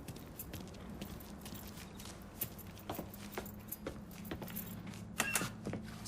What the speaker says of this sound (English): Hey, man, grab those keys.